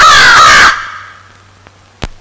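A crow gives one loud, harsh caw close by, followed by a couple of faint clicks as the sound dies away.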